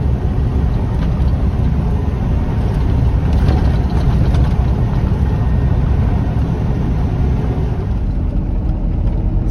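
A car drives along a snowy track at about 80, its engine and road noise making a loud, steady, unbroken rumble throughout.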